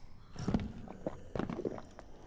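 Footsteps in the video game Dark and Darker, a handful of soft, close steps in a short uneven burst over a quiet background.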